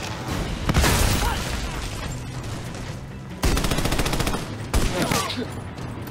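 Dense, close automatic gunfire rattles through a firefight in the co-op shooter Army of Two: The Devil's Cartel, broken by a sharp blast partway through before sustained bursts of shooting resume.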